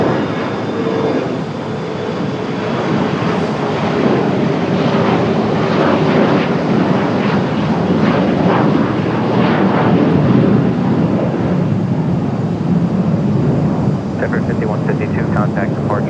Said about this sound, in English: Nice steep departure for this